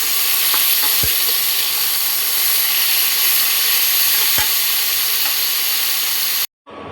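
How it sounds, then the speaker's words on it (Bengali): Cauliflower gently frying on low heat on an induction cooker gives a steady, close hiss of sizzling oil, with a couple of faint clicks, and it cuts off abruptly near the end. "আর এটা যখন আমরা ভাজছি হালকা করে, তখন কিন্তু আঁচটা কম করে নিতে হবে, নাহলে পুড়ে যাবে।"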